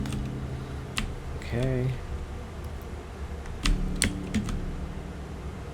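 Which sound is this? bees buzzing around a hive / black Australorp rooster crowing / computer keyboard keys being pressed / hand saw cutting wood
computer keyboard keys being pressed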